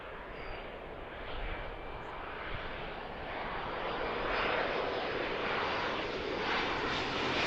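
Boeing 787 Dreamliner engines roar steadily in a broad, distant jet rumble at an airfield, slowly swelling in loudness across the stretch with no voices present.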